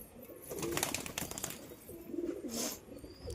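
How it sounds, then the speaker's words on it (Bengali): Pigeons in a coop during 38° heat give soft, low, repeated coos that ripple along at close range, with faint rustling and a brief bright chirp-like note over a steady background hum. "এই যে কবুতরগুলো যেগুলো তোমাদের দেখাচ্ছে"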